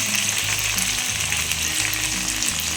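Val beans sizzling steadily in hot oil in a pan, a continuous close, fairly loud frying hiss with low bubbling underneath and no voices.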